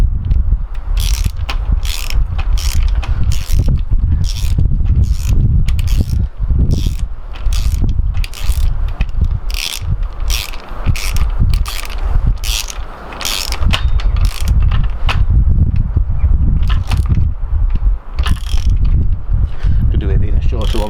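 Ratchet turning a 9/16 socket on the bottom bracket of an old Pashley bicycle, loud rapid clicking in repeated strokes close up, continuing for a long stretch with brief pauses.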